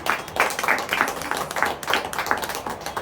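A church congregation claps loudly after a sermon point about praise songs, a dense run of hand claps with uneven rhythm filling the room throughout.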